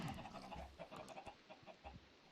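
Chicken in Minecraft giving a quick run of soft, choppy clucks, several short bursts in irregular rhythm, fairly faint and close with no talk.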